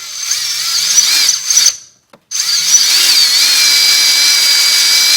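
An electric drive motor whirs steadily under throttle, spinning a drive shaft through a portal axle setup, loud and continuous with a brief cutoff midway before it resumes, no talking.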